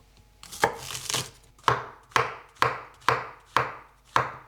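A knife slices the white part of a leek on a cutting board, giving a string of sharp, evenly spaced chops, close and clear, with no voices.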